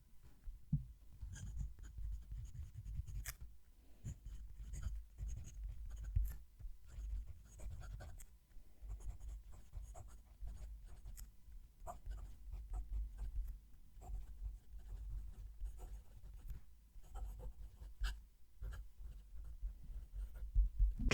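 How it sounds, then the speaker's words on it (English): A Jinhao 80 fountain pen scratches across paper as a sentence is written, a steady close, faint scraping with tiny ticks over a low background hum, no voice. "move the mic down to the page and write a sentence with each of them. So we start with the Jinhao 80."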